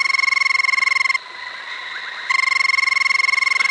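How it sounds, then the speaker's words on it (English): A played recording of a rubber frog's call: rapid, evenly pulsed high croaking trills, loud and clear, breaking off for about a second before resuming. "why are you not playing the song of the frog?"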